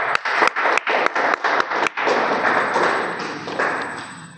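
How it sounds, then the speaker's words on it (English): Audience clapping at a Rotary Club weekly meeting in Nagercoil; a few sharp, loud, spaced claps lead into a dense round of applause from the room that gradually fades away. "Make a clap."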